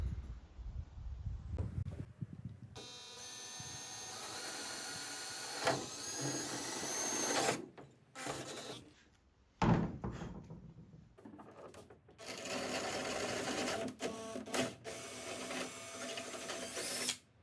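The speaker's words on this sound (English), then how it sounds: "Got the holes all drilled here." Drilling holes for a URAS drag wing on a Nissan 350z, a long, loud steady whine from a power drill, broken by pauses, with no voices.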